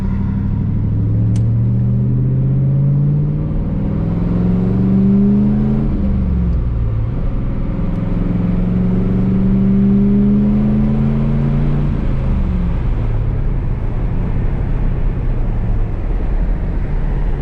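Pontiac Trans Am WS6 accelerating hard from inside the cabin, engine note climbing through several gear shifts with a loud steady rumble, no talking.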